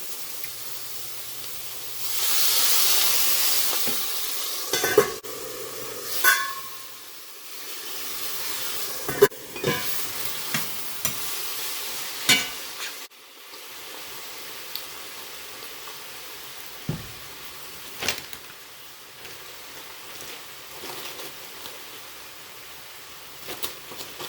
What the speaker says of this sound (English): I'm going to give these a little bit of time to steam.